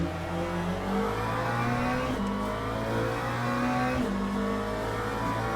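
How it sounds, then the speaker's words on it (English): A Mustang GT3 race car in a racing video game at Le Mans, its big V8 fitted with endurance-racing mufflers, drones loudly and continuously, pitch climbing through gears with brief shift dips. "Out of the GT3s, the Mustang's probably the best sounding one."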